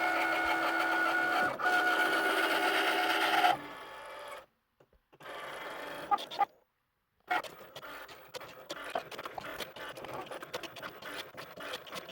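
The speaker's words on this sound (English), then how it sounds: "just click on go, and it will give it another cut through" An electronic craft cutting machine makes a second cut pass through metal sheet on its mat, a steady mechanical whir with carriage movement, broken by short pauses and then stuttering, repeated motor bursts, close and alone.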